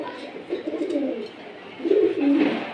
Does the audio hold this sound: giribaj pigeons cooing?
yes